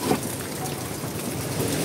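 Steady rain falls outdoors as a dense, even hiss of drops on surfaces, constant and fairly close, with no one speaking.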